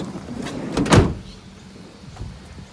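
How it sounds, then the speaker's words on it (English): Rear door of a Toyota Noah van being opened, a short mechanical clunk and slide near the mic around the one-second mark, followed by quieter handling noise and a faint second knock. "Look at this, you've got proper opening doors in the back."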